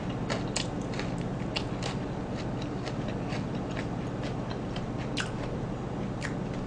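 Honey Combo fried chicken being chewed up close, with crisp crunchy bites and clicking mastication repeating irregularly over a steady background hiss, no talking.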